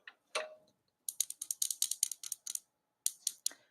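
A home sewing machine stitching fabric for a tote bag makes quick bursts of light, rhythmic ticking and clicking, faint and close, separated by short pauses, with no voices.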